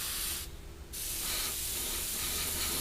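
An airbrush blows a steady hissing spray of air and paint onto a paper towel, briefly cut off once before resuming and continuing to the end, close and fairly quiet.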